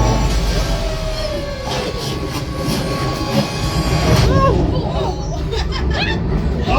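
A train sound effect on the Star Wars Smugglers Run ride rumbles and clatters loudly amid squealing tones and rising synthetic sweeps, with riders' excited voices mixed in.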